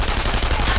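Continuous gunfire in the shooter game GoldenEye, a steady loud wash of shots lasting under a second with no clear gaps.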